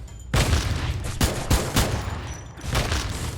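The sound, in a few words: gunfire in the video game Free Fire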